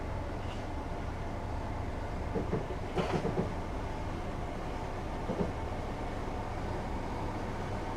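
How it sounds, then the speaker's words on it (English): Train Simulator 2016 passenger stopper train accelerating between East Croydon and London Bridge, a steady rumbling rail drone with a few rhythmic wheel clicks over joints, continuous and close, no talking. "I'm going to continue to accelerate along here until we reach the girder overbridge just ahead"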